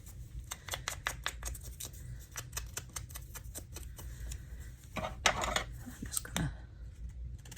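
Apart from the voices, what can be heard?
scissors cutting paper for a junk journal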